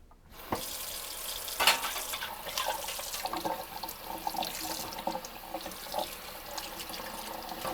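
Tap water runs steadily into a kitchen sink to flush a camera, a continuous close splashing rush with occasional clatter, no voices.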